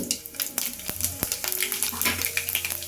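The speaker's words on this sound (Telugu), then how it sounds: "స్టవ్ మీద కడాయి పెట్టుకొని ఒక రెండు టేబుల్ స్పూన్ ఆయిల్ పోసుకొని ఆయిల్ వేడయ్యాక ఒక టీ స్పూన్ వరకు ఆవాలు ఒక టీ స్పూన్ వరకు జీలకర్ర వేసుకోవాలి" Mustard seeds and cumin sizzle in hot oil in a kadai on the stove, a close crackling fry with quick popping ticks and faint clinks of a spoon against the pan.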